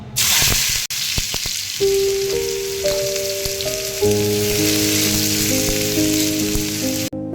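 Hot oil sizzles steadily in a pan as amboli is cooked, a loud, constant hiss that lasts throughout at close range. A few sharp clicks and sustained tonal hums from the kitchen sit beneath it.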